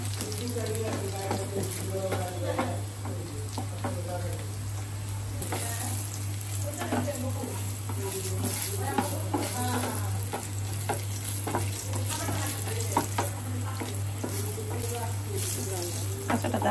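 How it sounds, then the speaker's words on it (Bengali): Garlic fries in a pan for a mixed-vegetable labra, giving a steady close sizzle with occasional stirring scrapes throughout, plus a constant low electrical hum and some faint background voices. "রসুনটাকে ভাজা ভাজা করো।"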